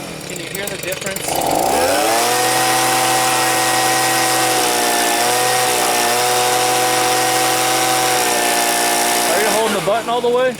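A Stihl leaf blower with a fault that keeps it from staying running roars loudly and steadily close by after a short revving start, its engine pitch wavering slightly, with voices talking briefly at the beginning and end.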